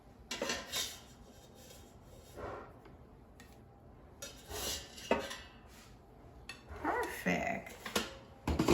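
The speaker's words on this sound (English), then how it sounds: "Let's take them out of the air fryer." Twice baked potatoes being lifted out of an air fryer, clinking and scraping of metal basket and utensils in bursts, with rattles and a creak, fairly close.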